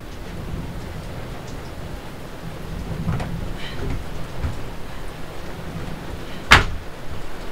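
A thunderstorm blows rain into a cabin: a steady wash of rain noise with low, rolling rumbles runs throughout, and a single sharp crack stands out near the end.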